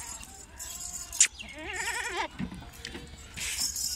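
A goat being shown for sale bleats once in a wavering, quavering call near the microphone, set against faint background noise.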